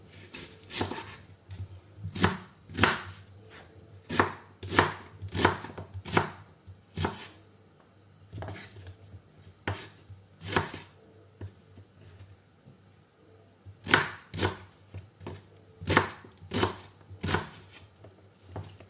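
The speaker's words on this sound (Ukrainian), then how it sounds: "Як от зараз, наприклад, буду різати цибулю." A knife chops an onion rhythmically on a cutting board, sharp close knocks in quick bursts with brief pauses between runs, no talking.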